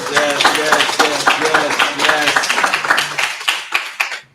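An audience at a mayoral forum gives a round of applause, with brisk, dense clapping close by and voices mixed in before the clapping tapers off at the end.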